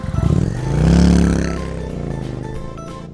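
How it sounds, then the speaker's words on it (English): A motorcycle engine rumbles close by, swelling to a louder revving peak before settling back to a steady idle throb. "This is the motorcycle sound."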